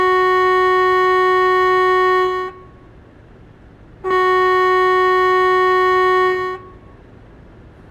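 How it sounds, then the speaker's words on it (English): Air horn of a truck in Euro Truck Simulator 2 sounds in two long, loud, steady blasts of about two and a half seconds each, separated by a short gap of quiet engine rumble. "So Nimmo, I think we gotta honk the horn."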